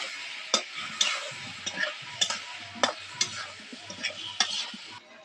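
A spiced banana flower mixture with ginger paste is being sautéed in a pan. A soft sizzle runs underneath while a spatula scrapes and taps the pan in regular, distinct strokes about every half second. No voice.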